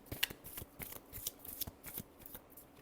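Tarot cards being shuffled by hand, a quick run of soft, close riffling flicks at a steady rhythm, faint and without talk.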